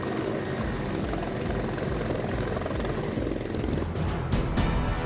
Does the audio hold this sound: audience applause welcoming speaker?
no